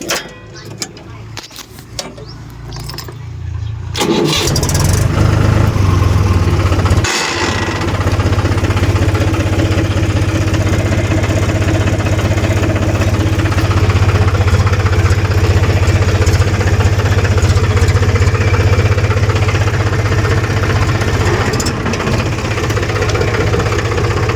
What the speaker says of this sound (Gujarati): આપણે ટ્રેક્ટર લઈને જવાનું છે